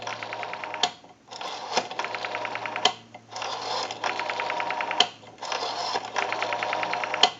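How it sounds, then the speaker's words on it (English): A Stromberg Carlson rotary dial wall telephone dial spins back to rest several times, each return a quick run of even clicking with brief pauses between dialed digits. "We have a nice smooth return on our rotary dial now."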